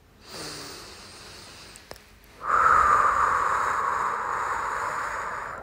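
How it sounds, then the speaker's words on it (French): A long, deep breath drawn in close to the microphone: a faint first airy intake, a small click, then a loud, sustained rushing inhale lasting several seconds. "Tu vas prendre une grande inspire."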